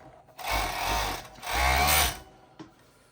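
A Pegasus M952 industrial overlock sewing machine whirs in two fast bursts with a brief pause between, followed by a short mechanical clack at the end.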